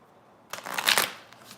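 A deck of tarot cards shuffled once, close by, a short riffling burst that swells and then trails off, with no talking.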